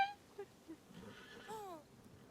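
A horse in the Star Stable video game whinnies with a rising, then falling neigh lasting about a second, preceded by a few short snorts and soft hoof sounds, fairly close and clear with no talking.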